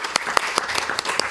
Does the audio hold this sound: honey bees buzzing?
no